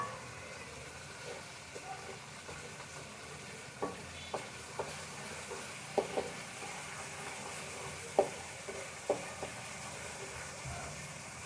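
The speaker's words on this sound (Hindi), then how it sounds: "अदरक लहसुन डाल के थोड़ी देर फ्राई कर लेंगे ताकि अदरक लहसुन का जो कच्चापन है वो ख़त्म हो जाए।" Ginger and garlic fry in a pan for arvi curry, a soft, steady sizzle with occasional scrapes and taps of a spoon stirring, fairly faint.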